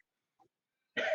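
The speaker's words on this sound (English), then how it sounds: "I cannot shake this sinusy cough." A single sinusy cough bursts out close and fairly loud at the end, after near silence with only a faint brief sound before it.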